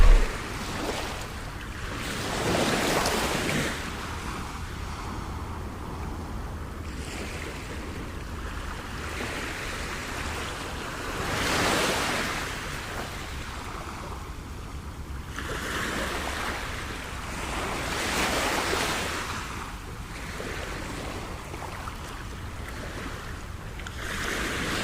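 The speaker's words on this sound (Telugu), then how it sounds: "కిరటాలు మాత్రం చాలా వేగంగా వస్తున్నాయి." Ocean surf rolls in on Kakinada beach, waves breaking in repeated surges every few seconds over a steady wash of wind, moderately loud with no voices.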